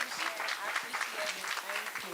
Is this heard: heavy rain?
no